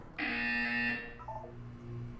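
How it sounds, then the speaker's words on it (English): Loud harsh electronic buzzer from the Portal video game sounds once in a sustained burst, then fades into lower lingering tones over a quiet hum. "When you hear the buzzer, look down at the floor."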